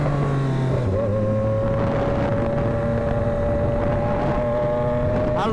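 A Triumph Daytona 765 motorcycle rides along, its engine droning steadily with a pitch that dips then holds, under constant heavy wind noise, no talk.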